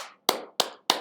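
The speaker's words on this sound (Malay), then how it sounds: "Dialah yang berikan tepukan gemuruh kepada Tuan Ayub" Three slow, separate hand claps, each sharp and close with a short decaying ring, evenly spaced about a third of a second apart in a quiet room.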